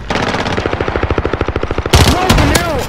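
Rapid automatic gunfire in a video game rattles out as a loud, evenly spaced burst of shots, then breaks into heavier blasts with sweeping whistles and a voice shouting over them.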